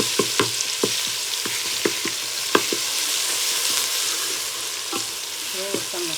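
Curry leaves and crushed garlic spit and crackle in hot oil, a dense sizzle broken by frequent sharp pops and a few utensil taps, close and fairly loud throughout.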